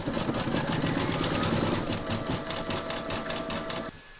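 Satin stitching on an appliqué parrot's beak runs on an embroidery sewing machine, a close, fast, even needle clatter that holds steady before dropping away abruptly near the end.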